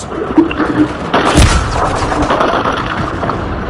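Gunfire and explosive booms in the video game Call of Duty Modern Warfare 3, a loud blast landing around the middle of the clip with rumbling fire and crashing debris continuing afterward.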